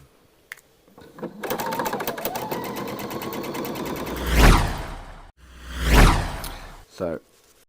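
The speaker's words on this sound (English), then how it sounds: "you want to do a line of stitching all the way along the sleeve, into the cuff, and down to where the folded edge is there" A sewing machine stitches a continuous line along a dress sleeve into the cuff, its fast steady rattle running for several seconds before two loud fabric swooshes as the garment is handled.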